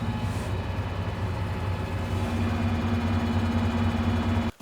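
A steady MTZ 3522 tractor engine chugs at idle with a low, even drone and vibration, running continuously without pause and close by.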